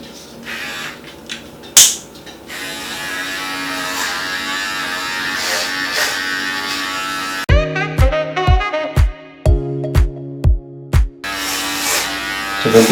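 Steady buzzing drone of an electric hair clipper trimming a person's own hair, running continuously and fairly close, followed by a series of sharp clicks and taps.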